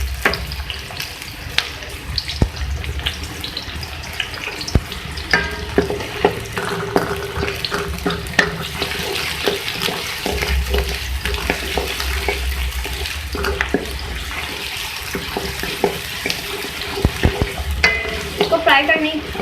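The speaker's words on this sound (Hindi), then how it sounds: "प्याज को फ्राई कर लेंगे।" Onions sizzle and fry in oil in a pan, with frequent scraping and stirring clatter over a constant crackle; no talk is heard.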